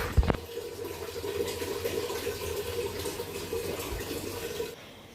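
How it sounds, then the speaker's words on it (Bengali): Water runs from a tap and fills a vessel in a home kitchen during cooking, a steady, close rushing flow that begins with a clunk and stops abruptly just before the end. "আর এখানে জল ভরা হচ্ছে বলে আওয়াজ হচ্ছে"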